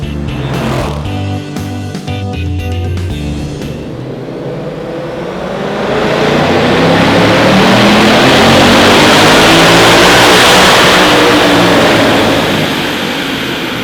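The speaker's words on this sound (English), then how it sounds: "So one of the beauties of a centrifugal supercharger is that old school sound." A 2023 Ford Mustang Mach 1 fitted with a Stage 2 ProCharger centrifugal supercharger running on a dyno, first loud idling and blips, then a long, roaring pull with a rising supercharger whine before easing off.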